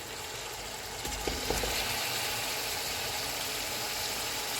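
Beef sizzling with ginger-garlic paste in a pot over a full flame, a steady broadband frying hiss with a few faint stirring knocks near the start.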